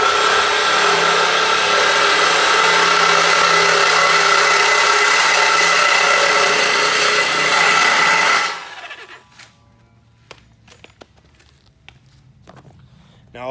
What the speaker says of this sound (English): All this does is cut in a seesaw motion